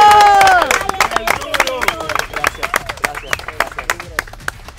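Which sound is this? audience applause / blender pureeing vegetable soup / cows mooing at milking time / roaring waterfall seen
audience applause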